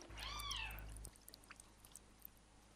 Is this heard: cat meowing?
yes